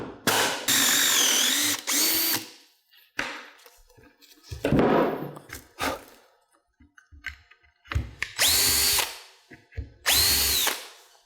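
Power drill boring small pilot holes for a cabinet door hinge, several short whining bursts separated by pauses and handling clatter, close and loud, with no voices.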